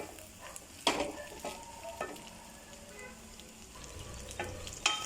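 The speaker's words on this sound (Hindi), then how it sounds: "तो ख़ीमा हम अच्छे से भून चुके हैं, अच्छे से ख़ीमा हमारा भून चुका है यहाँ पे।" Minced meat keema fries and is stirred in a pan, a steady close sizzle broken by several sharp scraping stir strokes, with no talk.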